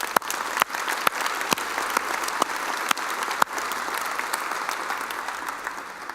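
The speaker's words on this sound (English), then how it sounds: "Please give them a round of applause." An audience at a North Seattle community report event applauds steadily for local businesses, dense clapping holding at a fairly even level for several seconds with a few sharper claps standing out near the front.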